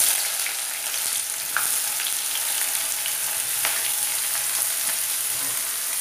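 Chopped onion fries in hot mustard oil for a mutton keema kaleji dish, giving a loud, steady hiss and sizzle with small crackles and pops throughout, and no talking.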